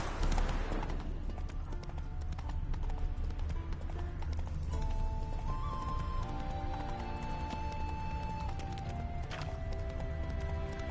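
Horse hooves clip-clopping in a steady trotting rhythm in The Witcher 3, close and fairly quiet, with game music tones underneath.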